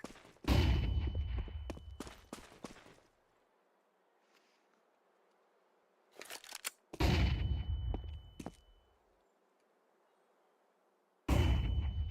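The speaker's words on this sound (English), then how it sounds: "I'm throwing a flashbang." A flashbang grenade goes off in a video game: loud, sharp explosive bursts recur three times, each followed by a high ringing tone and then near silence.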